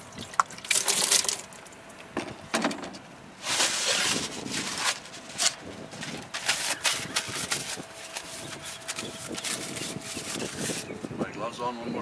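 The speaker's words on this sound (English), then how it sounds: "while it's rinsing and dropping down in here, I rinse my hands" Tap water runs and splashes in uneven bursts while hands are rinsed, with a steady gushing hiss that rises and falls.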